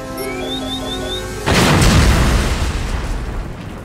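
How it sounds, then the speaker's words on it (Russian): A sudden, loud cartoon explosion in Teenage Mutant Ninja Turtles bursts in after a stretch of steady electronic tones, then a deep rumbling roar slowly fades. "Это был не ядерный взрыв."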